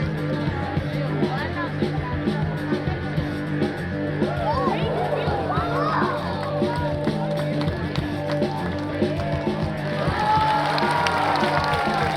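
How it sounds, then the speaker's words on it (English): Audience applause at the Taronga Zoo seal show in Sydney: a steady patter of clapping from a crowd at moderate distance, with people talking over it and scattered cheers rising near the end. "Our seals and our keepers both really appreciate your applause"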